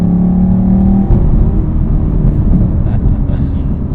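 A 2019 Chevrolet Camaro SS 1LE with its V8 engine drones steadily from inside the car, a low continuous rumble with a brief higher tone early on, sustained and loud throughout.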